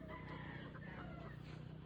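Faint clucking and a crow from a Chinese chicken in the background at a pet market in Angeles, soft and somewhat distant, with a steady low hum underneath.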